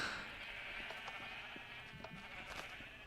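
Sheep in the Minecraft video game bleat several times over a steady background hum, the calls fairly close and clear with no talking.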